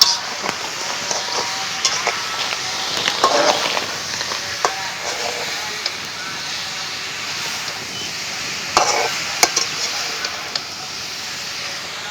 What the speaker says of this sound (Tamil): இதுக்கு பார்த்தீங்கன்னா காளானை போட்டு வதக்க போகிறோம்